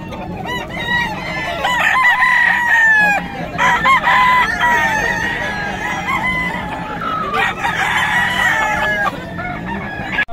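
Several roosters crow loudly and repeatedly, overlapping one another, with clucking and faint background murmur between calls.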